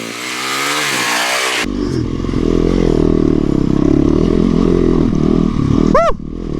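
Supermoto motorcycle engine revving hard during a slide, loud and close, with a sharp pitch change early on, then a sustained buzzing drone and a quick rev spike near the end.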